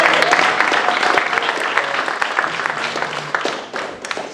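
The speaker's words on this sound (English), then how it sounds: "How about another round of applause?" An audience applauds after a banjo performance, with a burst of clapping from a crowd that starts loud and gradually thins out over a few seconds.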